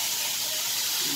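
Shrimp hitting a hot pan in a coconut milk pasta dish, giving a steady, loud, close hiss of sizzling that holds evenly without a break.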